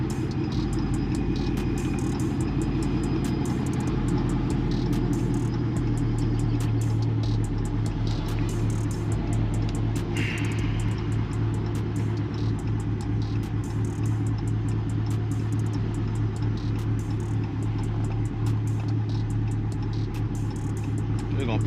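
A Torqstorm-supercharged Chrysler 300 drives along with a steady, loud mid-pitched engine drone and a constant low rumble throughout, heard from inside the car.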